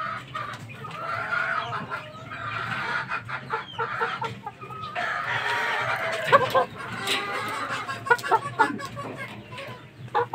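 Bulik fighting rooster with green legs, clucking and calling repeatedly at close range among other fowl, with people talking underneath.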